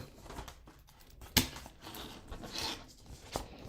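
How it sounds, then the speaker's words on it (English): A sheet of paper is handled up close, with soft rustling and crinkling, one sharp snap partway through and a few lighter crackles afterward, fairly quiet overall. "Let me get a different piece of paper."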